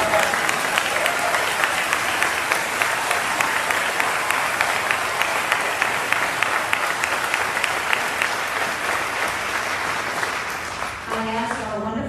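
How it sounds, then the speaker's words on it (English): An audience of families applauds graduating seniors of Mount St. Mary Catholic High School at a 2021 graduation ceremony, a dense, sustained wash of many clapping hands that fades near the end as a voice begins speaking. "okay, let's clap."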